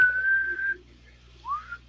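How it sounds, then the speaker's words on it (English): A person whistles two clear notes up close: a long steady tone, a pause, then a short rising note. "Whistles."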